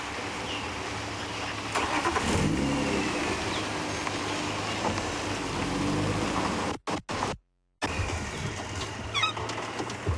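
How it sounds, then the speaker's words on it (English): A car drives along a dirt safari road in an African game reserve, its engine rumble and tyre noise steady and fairly loud throughout, with a brief cut near the end. "There's a car coming."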